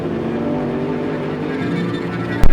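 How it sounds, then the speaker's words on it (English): A 540-horsepower race car engine running loud and rough with a steady heavy drone, ending in a sharp exhaust backfire bang as something blows out. "Something just blew out the exhaust."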